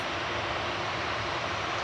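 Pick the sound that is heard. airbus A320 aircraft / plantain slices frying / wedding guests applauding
airbus A320 aircraft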